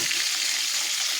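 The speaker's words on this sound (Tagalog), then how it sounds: "Pinaprito na. Ang kintab ng isda." Freshly caught fish fries in a pan with oil, giving a bright, steady sizzle close up that holds at an even level throughout, with no talking.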